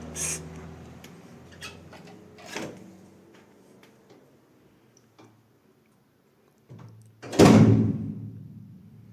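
A door opens with scattered clicks, knocks and a latch rattle, then a quiet pause, and finally a loud, close thud and rattle as it swings open.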